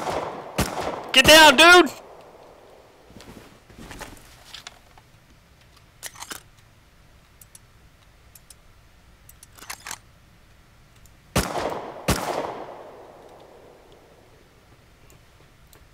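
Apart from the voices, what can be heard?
gunfire in the video game Rust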